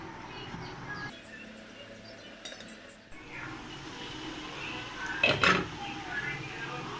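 A metal lid is set onto a pot of chicken curry in a home kitchen, giving a brief, close clink against a quiet background with some faint room noise.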